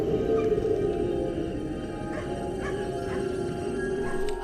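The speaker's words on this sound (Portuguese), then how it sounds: "O cachorrinho tá latindo." A small dog yips and whimpers in a scene from a horror-tinged TV drama, several short high cries fairly far off, heard over a low, steady soundtrack hum.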